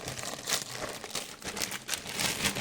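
A plastic zip bag crinkles and rustles up close in a string of short, crisp bursts.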